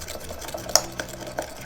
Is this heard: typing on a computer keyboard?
no